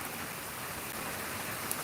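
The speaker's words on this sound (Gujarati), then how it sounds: "વરસાદ આજનો ચાલુ થઈ ગયો છે" Steady, soft rain falls on farmland in Lalpur taluka, Gujarat, in a continuous, even hiss, fairly faint, with no voices.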